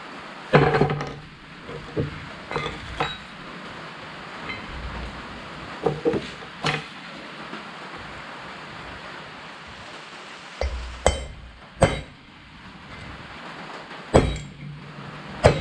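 A chisel is hammered to drive out a front wheel bearing on a 2005 Ford Ranger, giving sharp metallic strikes in irregular clusters separated by quiet pauses.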